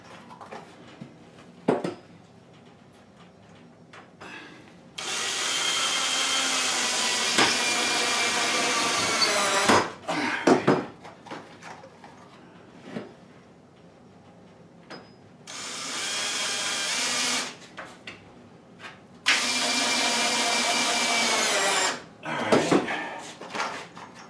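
A power screwdriver drives screws into wooden cellar shelves, with two long bursts of steady whirring separated by shorter zips, clicks and handling knocks, heard close and loud with no talking.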